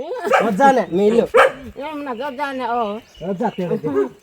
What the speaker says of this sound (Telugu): ఈ కుక్క అయితే అరుపులు తగ్గట్లేదు.